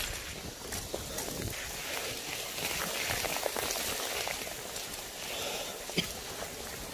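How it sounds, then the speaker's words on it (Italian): Heavy rain pours down steadily outdoors on a hillside overlooking a valley, a constant dense hiss with scattered patters and drips on nearby surfaces, no voices. "Ormai la pioggia ha deciso di martellare pesantemente."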